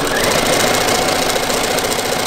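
A sewing machine runs steadily while stitching binding onto a quilt, a dense continuous mechanical whir heard loud and close throughout, with no talk over it.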